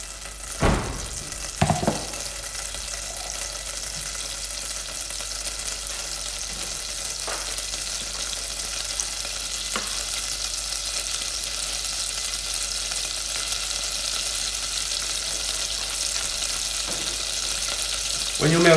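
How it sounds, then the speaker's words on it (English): Butter sizzles softly as it melts in a hot pan with a steady hiss, punctuated by a few sharp clicks and clanks of utensils. "And you're going to melt it in the pan, just briefly."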